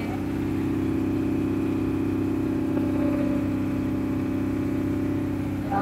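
A car engine runs at a steady mid-pitched hum with strong harmonic tones as the vehicle pulls away, loud and close throughout, with a slight rise near the end.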